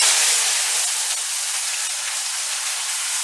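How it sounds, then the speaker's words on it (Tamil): Curry leaves crackle and sizzle in hot oil right after mustard seeds splutter, while tempering for a Thirunelveli-style pepper rasam. The sizzle is a loud, steady, close hiss that holds without a break, and no one speaks. "கடுகு பொரிஞ்ச உடனே கருவேப்பிலை"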